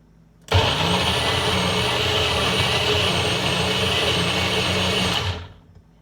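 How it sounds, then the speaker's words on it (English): A standard kitchen blender making a smoothie starts abruptly, roars loudly and steadily for about five seconds with a high whine, then winds down and stops. "there is a regular standard blender"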